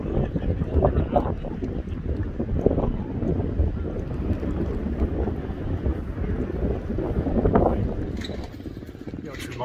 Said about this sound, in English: it's cold. Cold and windy.